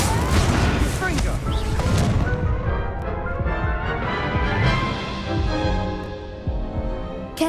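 Confringo blasting spell explosions in the video game Hogwarts Legacy, a dense run of loud booming blasts and crackling bursts up front, thinning into rumbling echoes and scattered hits with game voices mixed in.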